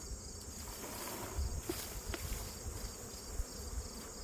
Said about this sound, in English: I notice there's a lot more bees above my head in the tree, another big cluster